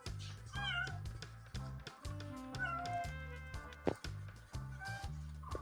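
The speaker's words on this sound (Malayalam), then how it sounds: "പൂച്ചയും പട്ടി എല്ലാം വന്നല്ലോ" A cat meows repeatedly close by, a series of drawn-out tonal cries in quick succession, clear and alone without talking.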